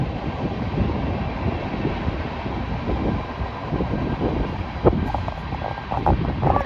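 Autorack cars on a BNSF freight train roll by with a continuous heavy rumble, wind buffeting the microphone, and a few sharper metallic clanks near the end.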